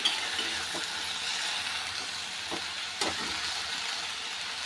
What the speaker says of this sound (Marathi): ही भाजी आता आपल्याला परतून घेऊया